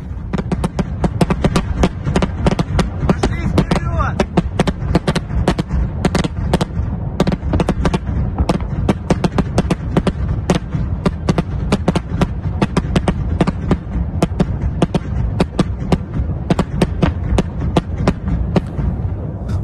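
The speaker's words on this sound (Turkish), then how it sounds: "Bakın sürekli bir patlama sesleri duyuluyor Kiev'de" Relentless rapid booms and cracks of anti-aircraft gunfire and explosions during an air attack on Kyiv, loud and continuous, with no pauses throughout.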